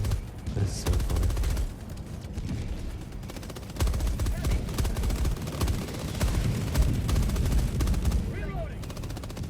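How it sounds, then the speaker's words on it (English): Sustained automatic gunfire from a teammate in the Helldivers 2 video game, fighting the Illuminate; dense, rapid bursts continue nearly without pause alongside other shots and explosions, with a voice talking over the battle. "I don't think that teammate has stopped firing yet."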